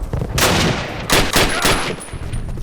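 Call of Duty battle gunfire, a series of loud, close sharp shots in uneven bursts, with a thin high whine near the end.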